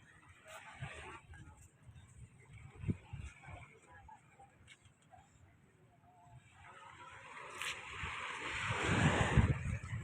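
Surf washes against the shore and swells louder toward the end, with wind buffeting the microphone throughout.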